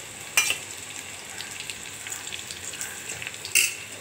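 Garlic and onion sizzling in hot oil with chillies and black cumin, a steady frying hiss broken by a couple of sharper spatula scrapes as the pan is stirred.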